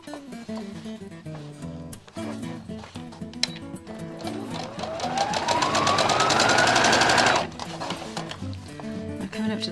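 A sewing machine stitches an apron around a curve, its motor whirring up in pitch and then cutting off, while someone talks throughout.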